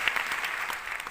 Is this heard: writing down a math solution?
no